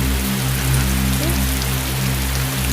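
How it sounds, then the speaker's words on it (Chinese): Heavy rain pours down in a steady, continuous hiss across the whole stretch, loud and even, with no voices over it. "遇上这么大雨，真是扫兴啊"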